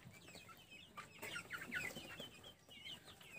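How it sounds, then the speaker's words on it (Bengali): Farm chickens, sitting listless and drowsy, cluck softly in scattered bursts, fairly faint and distant, with no talk over them. "দেখেন কি অবস্থা, মুরগি সব ঝিম ধরে বসে আছে"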